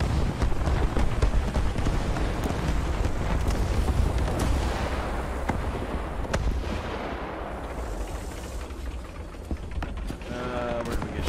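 A tank destroyer under fire in War Thunder, with dense, continuous rumbling blasts and sharp impact cracks over a heavy low roar, loud and close, with a few clear hits standing out.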